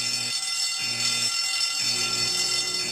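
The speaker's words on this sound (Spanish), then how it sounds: "Oye, es la alarma de incendio." A loud fire alarm rings during a cartoon fire drill in The Simpsons, sounding as a harsh, pulsing electronic buzz with regular on-off cycles and no voices.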